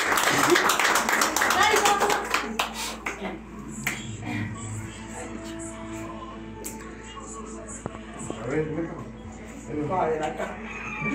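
Rhythmic clapping from a family group at a home gathering, sharp hand claps mixed with voices and talk throughout.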